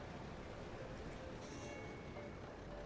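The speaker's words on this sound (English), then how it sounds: "Let's go tourist line. Yeah, let's see little tourist trains." A small tourist road train running through a city in Cities in Motion, heard as a steady rumbling vehicle drone with a brief bright squeal partway through.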